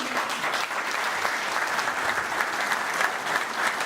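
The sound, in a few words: applause from audience after a speech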